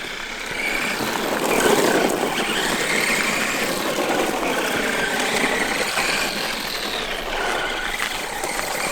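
A T2M XTS brushed RC monster truck drives with a steady, continuous motor whine and rough rolling noise that hold at a fairly loud level throughout, with no talking.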